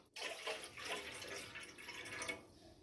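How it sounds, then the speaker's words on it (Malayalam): Water pours from a container into a cooking pan on a kitchen stove, a continuous splashing gush of about two cups for boiling 200 grams of macaroni, heard alone and quite close. "അത് വേകാനുള്ള വെള്ളം ഒരു 2 കപ്പ് വെള്ളം ഒഴിച്ചു കൊടുക്കാം."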